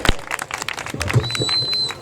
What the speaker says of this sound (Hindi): जनाब मोहम्मद साले पठान साहब तालियां की हो जाए।